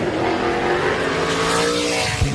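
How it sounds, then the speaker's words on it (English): A NASCAR stock car circles the track during a 2010 qualifying session, with a steady, loud engine roar that holds through the whole moment before a brief bump near the end. "Joey Logano out on track right now."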